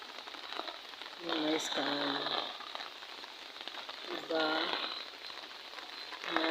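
Steady rain falls outdoors at a harvest in Maragusan, a continuous soft hiss running through the whole stretch while people talk casually over it.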